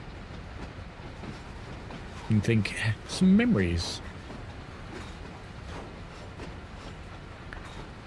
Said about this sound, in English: we're going to run this overly heavy train down the hill with no bloody brakes